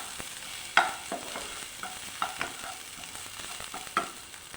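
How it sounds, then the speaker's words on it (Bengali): Chopped onion and garlic fry for a bhetki fish head chorchori, giving a steady close sizzle broken by a few sharp stirring scrapes and clicks, with no voices. "পেঁয়াজ রসুনটা ভাজা হয়ে গেছে"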